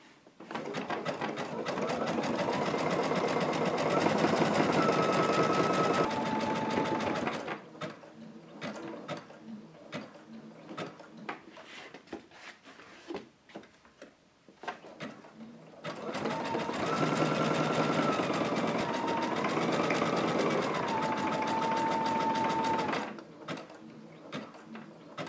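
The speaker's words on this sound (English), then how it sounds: "I'm going to do a zigzag stitch all the way around" A sewing machine runs a zigzag stitch around the edge of a fabric journal in two long steady bursts of fast mechanical whirring, close and loud, with a quieter pause of handling noise between them.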